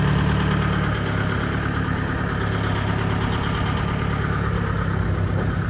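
A small tractor engine runs steadily at idle throughout while new farm machinery is unloaded, a continuous low diesel drone with no talk over it.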